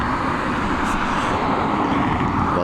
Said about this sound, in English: Let's pick up this 737 as she comes in from Nantes.